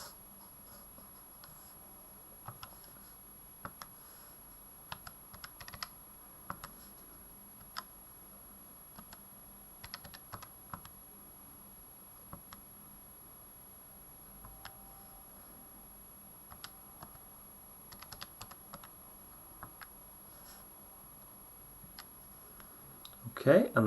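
Soft, sparse clicks of calculator buttons pressed while entering an inequality, faint and irregular against a quiet background, ending with a louder handling noise.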